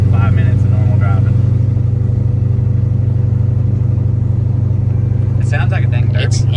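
A bagged 900-horsepower Dodge Hellcat engine idles with a heavy, lumpy rumble, loud and close throughout, while people talk over it in short bursts.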